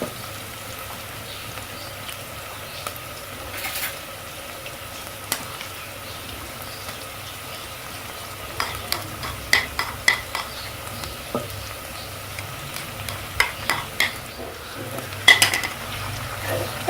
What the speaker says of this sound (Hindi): अदरक और लहसुन का पेस्ट शामिल करके हम इसको भून लेंगे।